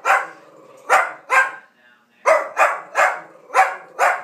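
A dog barks in protest, giving nine or so sharp, fairly close barks in uneven bursts, with a brief whine between them.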